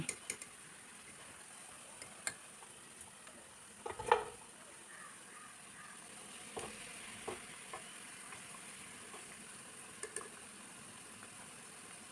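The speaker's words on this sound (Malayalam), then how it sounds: "ചിക്കൻ ഇടയ്ക്കെല്ലാം ഇളക്കി കൊടുത്തുകൊണ്ടിരുന്നേ ഇപ്പോൾ നല്ലവണ്ണം ഫ്രൈ ആയി വന്നിട്ടുണ്ട്" Chicken pieces fry in hot oil, a faint continuous sizzle broken by scattered clicks and a spoon knocking the pan about every couple of seconds, nearby and unvoiced.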